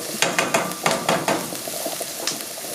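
Onions fry in a pot and crackle under a spoon that stirs in several quick scraping strokes, close and fairly loud over a steady sizzle, with no one talking.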